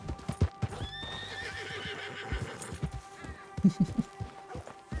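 A horse in Red Dead Redemption 2 clip-clops along with hoofbeats, letting out a drawn-out neigh early on, then more hoof thuds and a faint hum, all fairly quiet and close.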